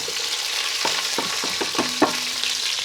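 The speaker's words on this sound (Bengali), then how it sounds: "এই যে দেখেন আদা রসুনটি যখন একটু লাল হয়ে গেছে এরপরেই দিয়ে দেবো এই যে পেঁয়াজ" Onion going into ginger and garlic frying in oil, a constant hiss of sizzling under a run of quick scraping and tapping stir strokes, close and fairly loud, with no talking.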